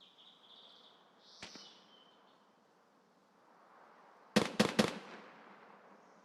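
Gunfire in a sniping-focused shooter game, a single sharp crack followed by a quick burst of three loud shots, with faint ambient hiss and chirps in between.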